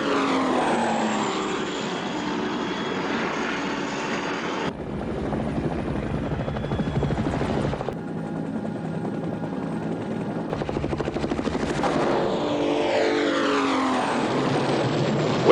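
An unidentified aircraft, tagged as a helicopter, approaches fast in a military action film, its steady rotor and engine roar loud and continuous, swelling and shifting in pitch, with no talk over it.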